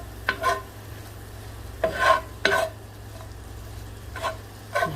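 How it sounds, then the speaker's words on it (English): Spaghetti sauce with salt, pepper and plenty of seasonings being stirred in a pot, giving a few soft scraping strokes close by in short separate bursts over a quiet low hum. "Give that a stir."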